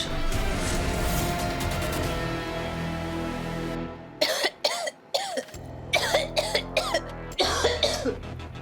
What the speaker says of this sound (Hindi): अब खांस क्यों रहे हो?